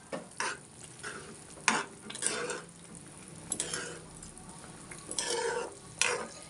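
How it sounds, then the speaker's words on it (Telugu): In a pot of boiling water, a spoon stirs semolina for upma, making soft scraping and sloshing strokes in irregular bursts. Faint bubbling continues underneath. "ఇప్పుడు నూక యాడ్ చేసుకుందాం. ఒకసారి బాగా కలుపుకోవచ్చు."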